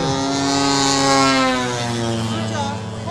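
Propeller engine of a model aircraft hanging on its prop in a torque-roll hover at an airshow, a steady droning buzz with a wavering pitch, loud and sustained throughout.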